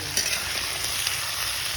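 Cumin seeds and cauliflower frying in hot oil make a steady close sizzle with faint stirring scrapes, quiet and continuous without talk.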